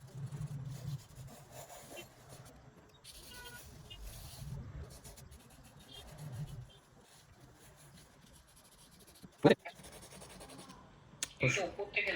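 A 4B pencil shades on paper in faint, soft scratching and rubbing strokes, with a few sharper taps later on.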